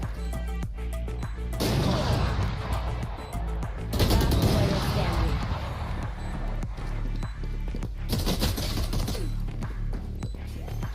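Gunfire in the Valorant video game: loud, close bursts of rapid shots with clattering impacts, sustained across the clip amid game effects.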